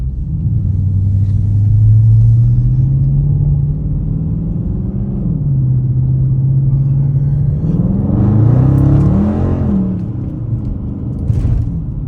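A Dodge Challenger with a newly replaced rear differential drives down the block, its engine a deep steady rumble from inside the car that swells under hard acceleration, with no voices.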